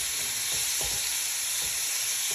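Pork fat fries in a pan for pork menudo, a loud, steady hiss of sizzling fat close by with a few soft stirring knocks underneath.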